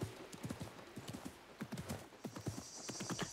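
In the video game Assassin's Creed Mirage, a horse gallops with a quick, steady clip-clop of hooves that keeps a rhythmic pattern, fairly near and clear, alone without talk.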